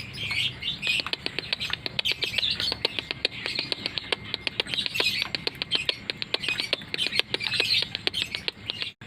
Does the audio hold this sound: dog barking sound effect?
no